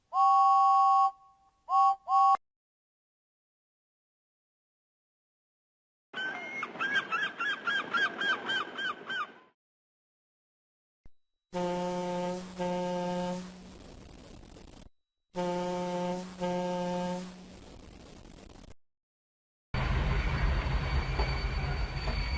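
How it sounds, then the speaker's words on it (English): Whistle blasts from Thomas the Tank Engine in a video game: several separate bursts of bright, layered tooting, fairly loud and alone, with short pauses between them and a steady noisy tone at the end. "Every time he went round a corner or through a tunnel, he gave a long blast on his whistle"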